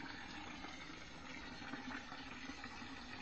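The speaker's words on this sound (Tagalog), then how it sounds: "Buksan mo gripo." Water running from an opened faucet for a bath, a steady, continuous rushing hiss that fills the whole stretch close by, with no voices over it.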